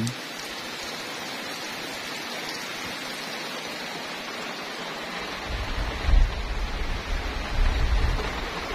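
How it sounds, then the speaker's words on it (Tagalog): Steady rain falls continuously on farmland, heard from a window, a soft even wash of noise, with a few low rumbles coming in toward the end. "Ang ganda pakinggan ng tunog ng ulan."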